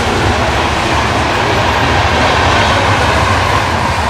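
A train passes close by near a village farm and cattle shed, a loud continuous rumble and rattle of wagons on the rails filling the whole stretch with no voices.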